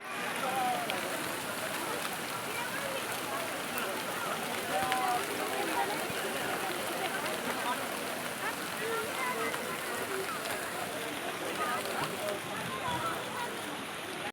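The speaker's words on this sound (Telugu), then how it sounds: "చండీ హోమం తర్వాత వర్షం పడడం అనేది చాలా శుభసూచకం అంటారు" Rain falls steadily after a Chandi homam ritual in Siddipet, a soft, even hiss of drops on surfaces that holds at a constant level throughout, heard from a moderate distance.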